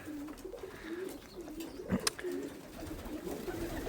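Pigeons coo softly and repeatedly in a low, rolling rhythm, with a brief sharp knock midway and faint ambient noise.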